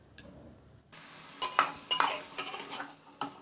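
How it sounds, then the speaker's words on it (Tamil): Mutton dry-frying in a pressure cooker as a metal spoon stirs and scrapes, giving a series of sharp clinking strokes over a faint sizzle after a brief quiet start. "இப்போ மட்டனை குக்கரில் சேர்த்து நல்லா ட்ரை ஃப்ரை பண்ணிக்க போகிறோம்."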